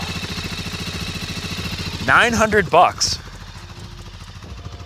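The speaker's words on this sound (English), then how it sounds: "this thing has been sitting for years. I can't believe it's idling. It is literally idling." A Honda 400EX ATV idles with a low, steady putter after years of sitting, while someone talks briefly over it partway through.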